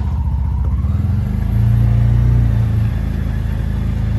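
An auto rickshaw engine pulls away in first gear, a steady close rumble with a rattling putter that swells and revs briefly mid-way before settling, with no talking.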